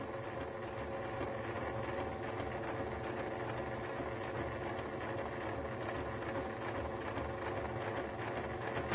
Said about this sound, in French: Je fais mon petit point d'arrêt et je recontinue ma couture.